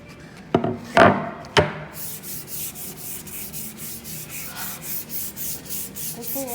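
Sandpaper rubbed back and forth over a wooden cutting board from a woodworking kit, a steady run of close, rhythmic scraping strokes after a few sharp knocks at the start.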